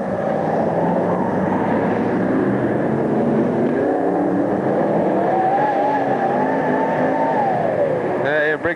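Racing cars roar around a short oval track at a 1992 Hartlepool meeting, engines droning loudly and continuously with a rising whine as they pass, crowd and track noise beneath.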